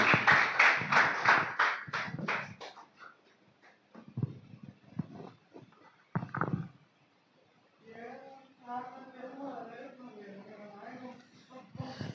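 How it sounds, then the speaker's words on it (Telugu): A church congregation claps to welcome the preacher in a burst of loud, rhythmic applause that fades after a couple of seconds, followed by someone speaking and a few scattered taps. "చప్పట్లు కొడుతూ ఆహ్వానిస్తున్నాం."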